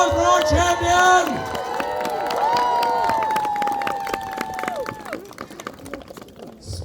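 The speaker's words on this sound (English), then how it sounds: "A round of applause for our champion!" Crowd applause and cheering at a Renaissance fair combat show, with clapping and whoops rising loudly, then tapering off over several seconds, with people's voices mixed into the crowd noise.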